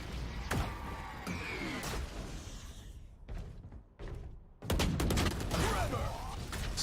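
Weapon fire and impacts during an esports tactical shooter match, irregular sharp cracks and thuds with a dense loud volley near the end, layered over busy game sounds and no clear talk.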